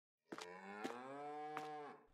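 A single cow in Farming Simulator 22 gives a long, clear moo that starts suddenly and stays sustained, close and fairly loud, with no talking over it.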